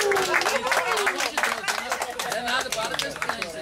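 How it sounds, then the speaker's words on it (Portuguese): A small group claps in a brief, scattered round of applause, mixed with overlapping chatter and voices throughout. "Uma salva de palmas para ele."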